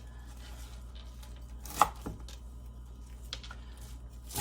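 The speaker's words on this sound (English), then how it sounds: "you could take that and cut it again, and then you'll have really nice bite-sized pieces" A knife cuts collard greens into bite-sized pieces on a cutting board, giving two or three crisp chops close by against a quiet low hum, with no talking.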